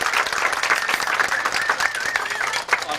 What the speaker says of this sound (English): we owe them a round of applause for all the work they did